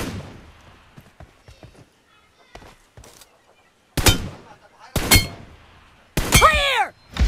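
Metallic clicks, clacks and thunks of a weapon being reloaded in a mobile shooter game, a few sharp mechanical hits with brief pauses between them, up close, ending in a ringing burst.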